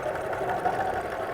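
A sewing machine runs steadily while stitching Double X quilt pieces, sewing over a seam corner; a continuous close mechanical hum and whir with no pauses and no talk.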